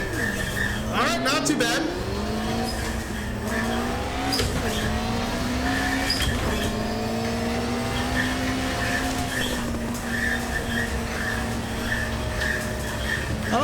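A race car in a driving simulator game corners hard, its steady engine drone shifting pitch as tires squeal, loud and continuous, with someone talking briefly over it.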